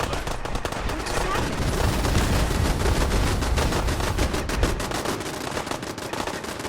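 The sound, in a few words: gunfire crossfire in the video game Fallout 4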